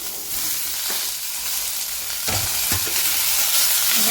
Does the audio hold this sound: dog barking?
no